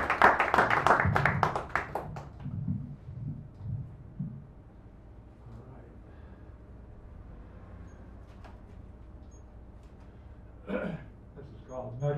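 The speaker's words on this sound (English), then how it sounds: "a welcoming round of applause," A small audience in a San Francisco café poetry reading gives a brief burst of clapping, which fades after about two seconds into quiet, low murmuring talk and room noise.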